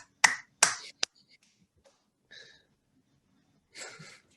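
Three sharp hand claps in quick succession sound up close over about a second, demonstrating a clapping motion, followed by a few faint breathy rustles and a short soft noise burst near the end.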